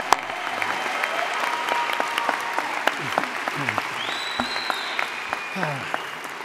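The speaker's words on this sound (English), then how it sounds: "could we join me once again with another well-deserved round of applause for our graduates" Audience applauding graduates at a graduation ceremony, a steady dense clapping from a large crowd that carries on evenly for several seconds, with scattered whistles and voices mixed in.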